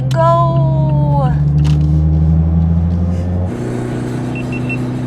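A car driven at night, its engine droning close and loud with a rising rev that drops as a gear shifts, then settles into a steady lower hum.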